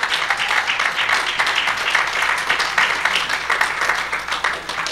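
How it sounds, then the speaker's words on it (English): A church congregation claps together in a steady, dense wash of applause that holds at an even level throughout, with no voices standing out. "Somebody better give the Lord a clap offering."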